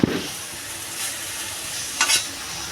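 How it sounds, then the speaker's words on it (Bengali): Pumpkin flowers fry in a pan with a soft, steady sizzle, broken by a sharp stirring scrape at the start and another near the end. "ফুলটা আমার ভাজা হয়ে গেছে ফুলটা নামিয়ে নেব"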